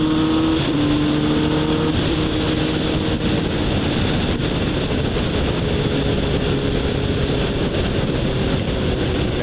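A Kawasaki Z1000 motorcycle engine revs and accelerates at speed, a loud continuous roar with rising tones and steady wind rush throughout, close and unbroken.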